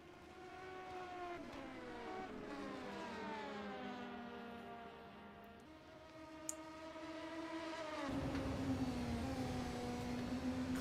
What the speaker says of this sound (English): A very distant noise comes along closer, and it's an LMP car.